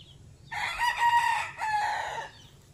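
A rooster crows loudly and close by in two long drawn-out phrases over a low background murmur of farmyard chickens, with no talk.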